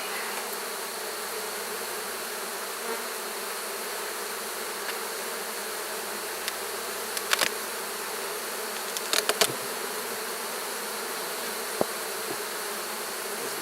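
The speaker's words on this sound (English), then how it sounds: "There's lots of bees in there." Honey bees buzz steadily inside an open hive during honey extraction, a dense continuous drone heard up close, with a few sharper passes from individual bees flying near.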